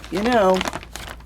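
Plastic mail-order bag crinkling close up during an unboxing, a short burst of rustle that overlaps a brief voice and then fades into quieter handling.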